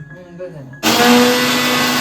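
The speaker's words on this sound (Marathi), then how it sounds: "ह्याला हा मस्त मिक्सरला लावून घ्या" A brief hum of talk, then a mixer grinder abruptly starts grinding a paste and runs loudly with a steady, high whirring roar close by.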